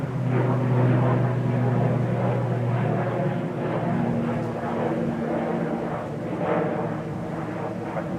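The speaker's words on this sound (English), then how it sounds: "We're gonna off to Inverness, ATR 42, GLMRA" An ATR 42 turboprop airliner bound for Inverness drones steadily with a low propeller hum. The sound stays continuous and moderately loud throughout, and a voice talks over it at times.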